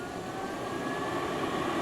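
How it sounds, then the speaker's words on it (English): A Greenote True HEPA air purifier runs back up at high speed, giving a steady, loud, broadband fan whoosh with a faint tonal whine, constant throughout with no talk. "when I plug it back in, there's a short delay, and it turns back on and goes right back up to high"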